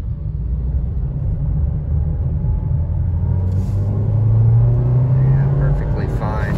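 A 2023 Nissan Versa S with a manual gearbox accelerating, heard from inside as a steady, close, low engine rumble whose drone climbs in pitch midway before easing off.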